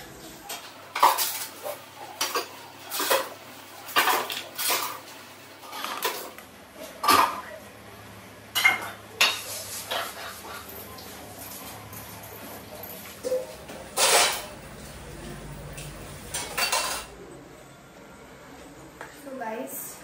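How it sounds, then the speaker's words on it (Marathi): Dishes, pots and cutlery clatter and clank in repeated bursts, close by, with quieter gaps between the clinks and scrapes. "माझी मातोश्री फायनली गेली आहे भांडी घासून."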